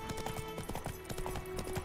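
Roach the horse gallops in The Witcher 3, with quick, steady clip-clop hoofbeats close by and evenly paced across the whole stretch over a soft game backdrop.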